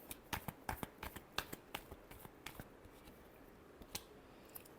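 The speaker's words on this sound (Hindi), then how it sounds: "Last shuffle." Tarot cards are shuffled by hand in a quiet room, a string of soft, crisp flicks and taps in irregular bursts, faint and close, without talk.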